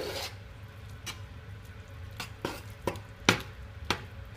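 Shepherd's pie filling gets stirred in a pan, with a handful of sharp spoon-on-pan scrapes and clacks at an irregular pace over a faint sizzle.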